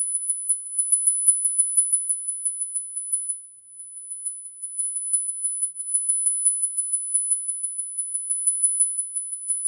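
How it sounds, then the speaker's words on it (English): A frequency generator gives off a faint, very high, thin tone that pulses rapidly and continuously, with one short dip partway through, and no other sounds around it. "That sound you're hearing, Tanya, is literally the frequency generator"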